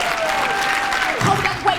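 Applause at a youth awards banquet, a continuous burst of audience clapping with some cheering, steady and fairly loud throughout, a voice briefly audible near the end.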